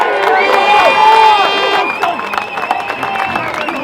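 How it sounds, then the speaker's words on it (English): Crowd at an outdoor freedom rally in Birmingham cheering and applauding for a speaker, loud shouts and whistles over dense clapping, easing into scattered claps and voices. "Another massive round of applause for Marco."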